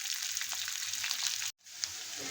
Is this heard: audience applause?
no